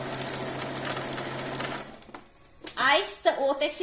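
A sewing machine runs a second seam through fabric for a dish towel with a border, a rapid, steady whirring stitch for about two seconds before it stops and a voice talks.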